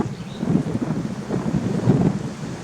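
Wind buffeting a microphone on an exposed hilltop near Careyburn, a steady low rumble with gusts swelling and easing throughout, no voices.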